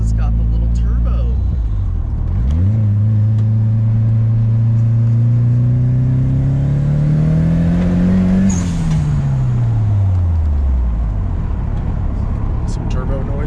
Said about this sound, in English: Some turbo noises.